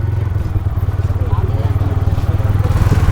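A motorcycle engine runs steadily with a loud, low, pulsing drone throughout, suggesting a ride in progress near temple country in Karnataka.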